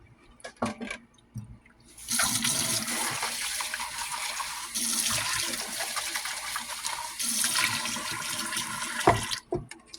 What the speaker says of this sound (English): I'm gonna pour the rest of this coffee out.